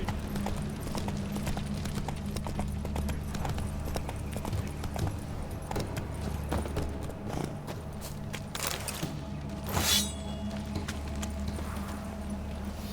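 Hooves of Roach, the horse in The Witcher 3, clip-clop in a steady walking rhythm over a low constant hum, close and even throughout, with a brief brighter rustle near the end.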